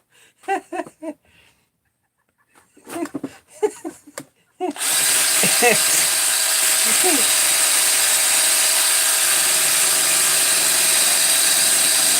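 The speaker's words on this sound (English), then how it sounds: "we actually need to test out James's blue wrench here" A ratchet wrench tested on a 372 crankcase gives a few scattered clicks and brief ratcheting bursts, then a loud, continuous mechanical whir that runs steadily to the end.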